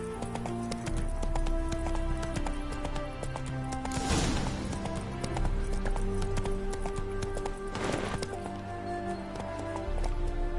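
Hooves of the horse Roach pound in a rhythmic galloping clip-clop in a video game, steady and fairly close, with a couple of louder crashing beats and a faint tonal music bed underneath.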